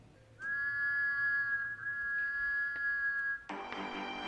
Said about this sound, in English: Does that whistle answer your question?